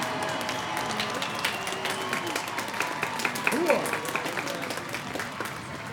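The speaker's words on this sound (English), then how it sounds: "Graduates, let's recognize our faculty with an enthusiastic round of applause." Graduates in a commencement crowd at CSU Chico give their faculty a sustained round of applause, with scattered cheers and whoops and indistinct voices mixed into the dense clapping.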